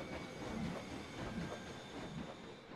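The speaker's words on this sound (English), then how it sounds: "steam as well as the howl as the train flies through." A steam train rushes through Whistlestop Station in Planet Coaster, a steady rumbling roar of rolling wagons with rhythmic clatter and a faint high whine, loud and continuous throughout with no talking.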